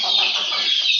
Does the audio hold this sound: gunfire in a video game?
no